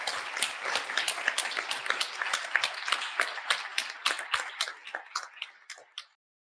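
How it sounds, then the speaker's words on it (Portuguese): Audience applause at a Brazilian education seminar's closing symposium, a dense run of hand claps from a room of people that thins and stops abruptly after about six seconds. "o que eu quero é pedir que vocês aplaudam a professora Ana, a professora"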